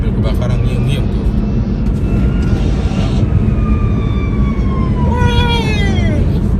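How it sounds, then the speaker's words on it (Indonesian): A fire truck's wailing siren sweeps up and down as it passes on a toll road, heard from inside a moving car over steady road and wind rumble. "Tuh ada mobil kebakaran ngiung-ngiung tuh."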